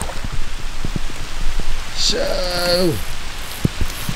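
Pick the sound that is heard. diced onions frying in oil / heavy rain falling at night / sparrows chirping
heavy rain falling at night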